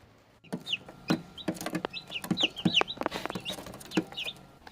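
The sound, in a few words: chicks chirping outside on the dirt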